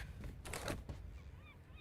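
Loud, honking seagull calls from the video game Wuthering Waves burst out in a cluster near the start, followed by softer squawks and thin cries over a steady background.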